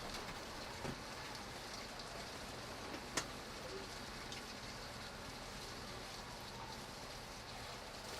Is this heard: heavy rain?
yes